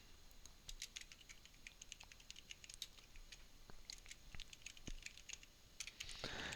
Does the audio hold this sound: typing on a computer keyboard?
yes